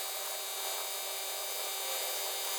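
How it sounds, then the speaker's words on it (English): Sandpaper on a sanding sponge is worked by hand over a painted surface, a steady close, dry broadband hiss with no pauses and no voices. "I'm just going to use a sponge and sandpaper."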